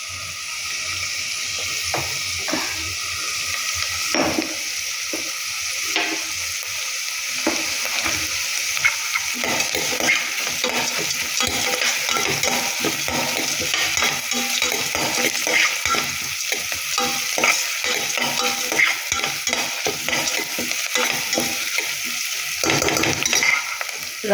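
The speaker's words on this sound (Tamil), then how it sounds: "நல்லா சாட்டே பண்ணிக்கோங்க" Ragi (finger millet) vermicelli sautéed in a pan gives a steady close sizzle throughout, with frequent scraping stirs and light clinks of the spatula against the metal, and no one speaking.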